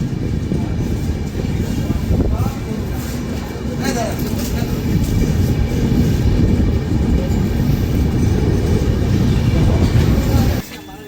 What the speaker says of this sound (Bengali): আমাদের ট্রেন এখন নবদ্বীপ ধাম রেল স্টেশন এসে পৌঁছালো প্ল্যাটফর্ম নাম্বার 3-এ।